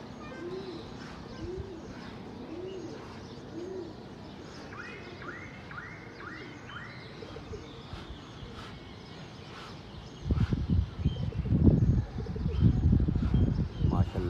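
Pigeons coo in soft repeated rounds at moderate distance, a few chirps mixed in, before louder fluttering and rustling noise takes over near the end; a voice speaks faintly in the background.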